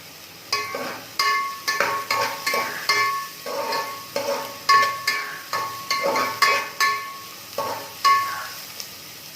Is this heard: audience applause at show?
no